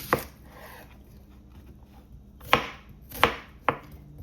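A knife chopping onion on a cutting board for Jamaican ackee and saltfish: one cut, then a pause, then three more crisp chops close by, with no talk.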